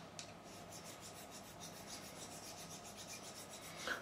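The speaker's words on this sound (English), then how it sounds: "And I'll get some sandpaper on this and just rolling it round." Sandpaper rubs steadily against a part on a 1972 Gibson Les Paul Deluxe during a neck repair, a soft continuous rasping scrape, faint and close, with no voices.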